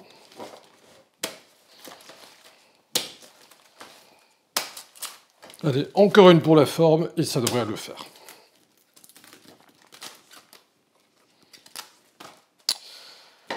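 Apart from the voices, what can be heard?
cutting green cabbage leaves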